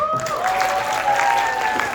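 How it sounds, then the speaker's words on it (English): Brief applause from a magic show audience for two performers, steady and moderately loud, with a sustained tonal sound running underneath. "Give them a round of applause."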